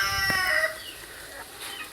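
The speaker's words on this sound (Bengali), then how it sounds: "এই যে আমার আম্মুর হাঁস মুরগিরাও চলে এসেছে" Chickens cluck and call around a home where ducks and chickens come up at feeding time, with several overlapping short bird calls close by over a quiet yard, and no talk.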